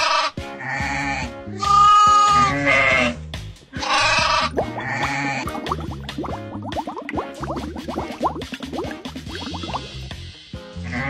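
Sheep bleating on a farm, several wavering calls in quick succession, loud and close, with a busy livestock background of overlapping bleats throughout.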